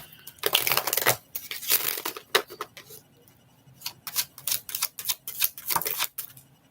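Tarot cards riffle and slap together in quick irregular bursts, close and crisp, with short quiet gaps between shuffles.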